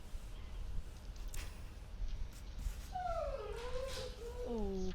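Faint, high-pitched puppy whimpers, a couple of rising-and-falling cries near the end over a quiet background with soft rustling.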